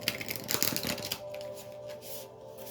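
A deck of cards riffled and shuffled by hand, a brisk papery burst of flutter up front that settles into soft rustling, close and fairly quiet with no talk.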